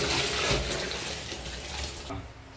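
Water streams steadily into a cooking pot measured for veg biryani rice, a close, soft continuous splashing that fades toward the end, with no talking.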